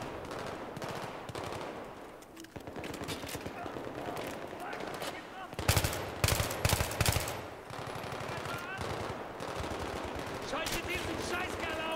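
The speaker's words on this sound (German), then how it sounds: "Ich gehe raus aus meiner Position und werde sofort wieder beschossen" Gunfire from the Battlefield 3 video game campaign. Dense rapid machine-gun bursts and shots go on throughout, with louder close bursts partway through, over constant battle noise.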